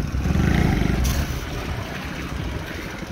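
A cheap secondhand motorcycle bought off a marketplace hums steadily while being ridden, a continuous low engine drone with wind rush, loudest at the start and then easing to a steady cruise.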